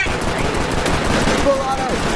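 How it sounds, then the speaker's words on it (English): Full-auto pistol fitted with a switch firing in the video game Rec Room, a rapid, continuous burst of close, loud gunshots with a brief electronic tone partway through. "Bro, I got my pistol equipped with a switch."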